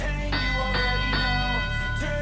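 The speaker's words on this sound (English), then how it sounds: "The bell is run, folks." At a robotics competition, a bell rings out to mark the start of the match's teleoperated period, several resonant struck tones sounding one after another over a steady crowd and arena din.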